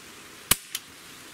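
Barra 1866 Cowboy Series pump airgun firing a single sharp crack, followed a fraction of a second later by a fainter second snap, close and loud in a quiet setting.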